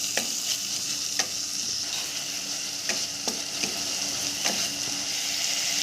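Tomato paste is stirred into a sizzling pan while cooking prawn malaikari, a constant hiss of frying broken by regular sharp scrapes of a spoon against the pan.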